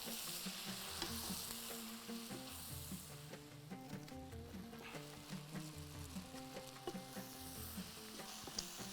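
Shrimp sizzling and frying in a pan while being stirred, with a continuous hiss and soft clinks and scrapes of the utensil against the pan throughout.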